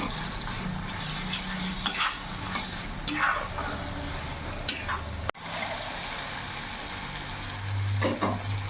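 A spoon stirs coriander powder and Kashmiri chili powder in a hot pan for a chicken curry. Soft frying sizzle and intermittent scraping strokes sound close by, with a brief cut midway and no voices.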